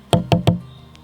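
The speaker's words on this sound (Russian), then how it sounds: "Сначала я ручным сверлом проделываю отверстия в углах сруба." Three sharp, close knocks of a hand drill boring holes into the corners of a wooden log frame in quick succession, then a faint ringing tail.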